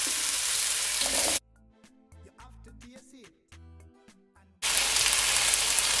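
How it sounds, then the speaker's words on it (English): Potatoes frying in olive oil in a pot give a loud, dense sizzle that cuts out for a few seconds, where clanks and faint knocks are heard, before the strong sizzle returns. "So now I'm gonna add"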